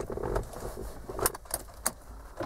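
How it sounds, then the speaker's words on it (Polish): A car key jangles on its ring as it is turned in a Ford's ignition, with a few light metallic clinks and rattles close by over a quiet cabin background. "Włączamy kluczyk."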